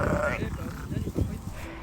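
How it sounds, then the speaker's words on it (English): Sheep bleat in a field where young lambs are present, the calls rising under and between people talking nearby. "the sound of the sheep in the background is so loud"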